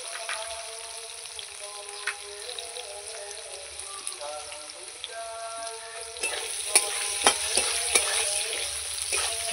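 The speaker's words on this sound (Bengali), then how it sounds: "আলু আমার ভাজা হয়ে গেছে" Potatoes fry in a pan with a soft steady sizzle, joined by sharper scraping stirs of a utensil that grow louder and more frequent later on, with a faint household hum beneath.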